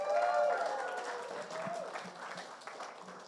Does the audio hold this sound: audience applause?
yes